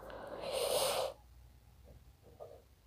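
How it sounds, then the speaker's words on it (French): Seagulls let out a loud, harsh, raspy call lasting about half a second, followed by a few fainter, shorter cries. There is no speech. "Oh non, les mouettes, non, les mouettes, il y en a marre des mouettes."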